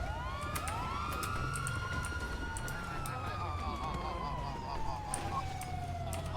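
A police car siren wails continuously in a multiplayer video game, its rising and falling tone loud and steady throughout, with players talking over it.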